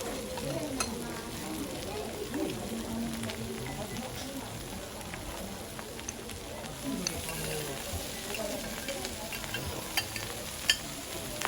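Yakisoba frying on a hot okonomiyaki griddle, a continuous close sizzle with scattered spatula clicks and scrapes, while voices talk quietly in the background.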